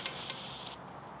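Air hissing sharply out of a mountain bike tubeless tire valve, a loud close burst of spray-like hiss that cuts off abruptly after under a second.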